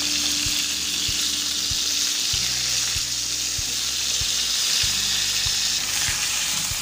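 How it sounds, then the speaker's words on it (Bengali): Poa fish frying in hot oil: a loud, steady, dense sizzle continues throughout with no pauses, no voices, and a faint low hum underneath. "এভাবেই আমি 4টা মাছ ভেজে তুলে নিয়েছি।"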